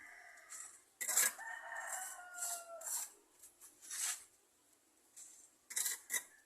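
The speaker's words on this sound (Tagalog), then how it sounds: "Mga tandang." Several roosters crow in long drawn-out calls, one near and others farther off, overlapping with scratchy rustling and a few clucks in a quiet rural yard.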